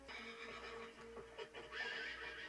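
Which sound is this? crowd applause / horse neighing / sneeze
horse neighing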